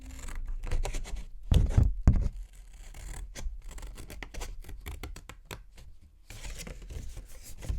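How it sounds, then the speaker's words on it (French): Scissors snip paper along a traced line to make a candle holder, giving a long run of close, quick, crisp cuts with a short pause partway through and a louder burst near the end. "On découpe ici le long du trait."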